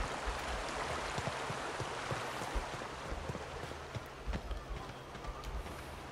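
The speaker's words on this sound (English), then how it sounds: "I can hear water." River water in the video game The Outer Worlds rushes in a steady, broadband wash that fills the whole stretch without pause, with no voices over it.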